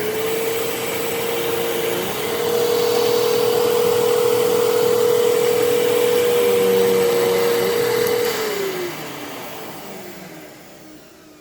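A 12 amp Fantom Fury vacuum cleaner runs loud and steady with a strong whining motor tone, briefly dipping in pitch near the start, then winding down and fading toward the end.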